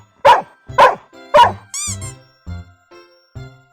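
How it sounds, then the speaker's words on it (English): A dog barks three times in a quick, loud, close sequence, followed by a squeaky yip and a few softer trailing sounds. "D-O-G, dog."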